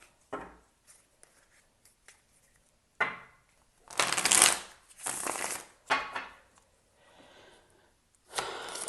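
A tarot deck is shuffled by hand in several bursts of riffling and sliding cards, each lasting about a second with quiet pauses between, close and clear.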